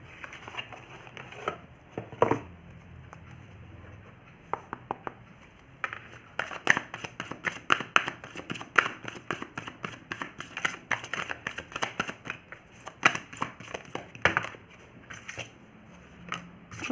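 A tarot card is drawn from the deck, a run of soft papery slides, flicks and taps, close and quiet, scattered across the stretch with no talk.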